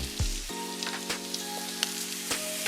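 Philly cheesesteak filling of beef and peppers sizzles on a Blackstone griddle. There is a steady, quiet frying hiss broken by a few sharp crackles and pops, close by with no voices.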